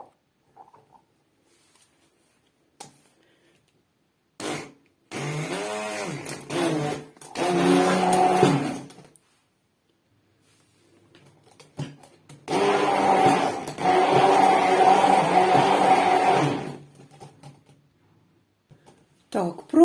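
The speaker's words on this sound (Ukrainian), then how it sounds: "беру погружний блендер" Two bursts of a whirring immersion blender mixing waffle batter with milk and sugar, the second longer, with brief clicks and pauses between them; no voices.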